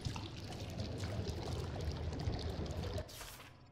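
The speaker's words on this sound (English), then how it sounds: "The ink drips." Ink pouring and dripping in the video game Bendy and the Dark Revival, a continuous close gush of liquid with a low rumble that drops off abruptly, leaving a fainter trickle.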